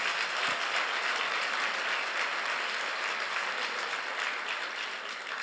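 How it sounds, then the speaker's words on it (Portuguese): A church congregation applauds for Jesus, a dense and steady wash of clapping that stays loud and even for the whole stretch, with no voices over it. "dê um aplauso a Jesus"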